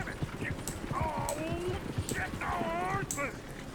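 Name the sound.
horses clip-clopping in the video game Red Dead Redemption 2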